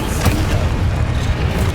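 A Confringo explosion spell cast in the Hogwarts Legacy video game, a loud, dense boom that fills the whole short moment with a rumbling low-end burst and no voices over it.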